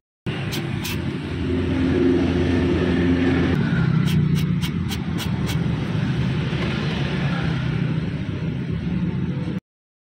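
Steady engine drone of a manual car with a worn clutch release bearing, continuous throughout with a faint high-pitched whirring and several brief repeated ticks riding above the hum, no voices.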